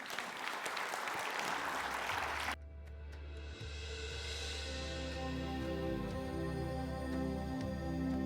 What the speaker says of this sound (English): A round of applause to the panel.